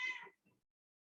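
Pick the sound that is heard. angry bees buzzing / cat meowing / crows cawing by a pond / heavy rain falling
cat meowing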